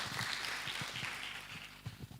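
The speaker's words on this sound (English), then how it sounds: "Let's clap for the CEO of the National Youth Council." An audience at a National Youth Council SDGs youth pre-conference applauds with steady, fairly faint clapping that spreads through the hall for a couple of seconds.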